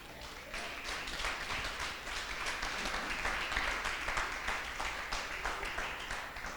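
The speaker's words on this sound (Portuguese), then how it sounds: "dê um aplauso ao Senhor" A church congregation applauding, a dense, continuous round of clapping that stays loud and even throughout, with no talking over it.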